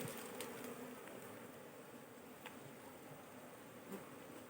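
A steady, faint drone of many honey bees buzzing together at a hive, continuous and dense, with a few soft ticks and knocks over it.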